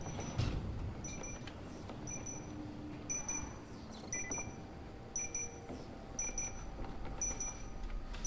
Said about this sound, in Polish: Ale gdzie jest ten alarm?